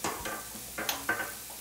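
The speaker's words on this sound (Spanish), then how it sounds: "Seguimos revolviendo." A spoon scrapes and stirs through beef tongue sauce seasoned with turmeric and cumin in a pan, giving a few soft, close strokes over a low sizzle.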